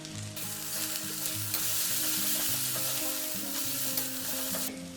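Ground spices such as turmeric, coriander, cumin and Kashmiri chili powder fry in hot oil over a high flame, giving a loud, steady sizzle with soft stirring scrapes that continue throughout.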